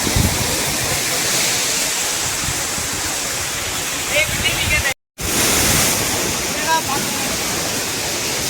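Punnayar waterfall thunders with a heavy, dense roar of rushing water, loud and close throughout, broken only by a momentary cutout partway through.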